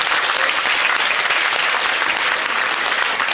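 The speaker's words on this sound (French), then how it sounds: "Applaudissements encore" An audience at a regional dance competition in Brittany claps steadily and loudly, a dense, unbroken wash of applause with no voices on top.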